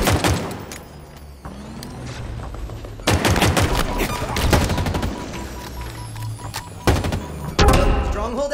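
Gunfire in Halo Infinite: repeated bursts of automatic weapon fire with sharp individual shots and heavy thuds, loud and close, broken by short lulls and mixed with game effects.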